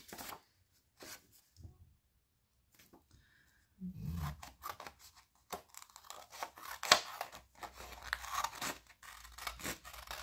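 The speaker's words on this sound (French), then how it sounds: "Ma paire de ciseaux, je découpe autour." Scissors snip around stickers in a quiet room, a sparse run of soft, close cuts and paper rustles with pauses between.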